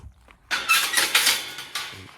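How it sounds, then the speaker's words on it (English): A metal field gate squeaks open on a hill walk across MOD land at Scratchbury Hill: a short burst of harsh, grating creaks close to the microphone, fading off after about two seconds. "We love a squeaky gate."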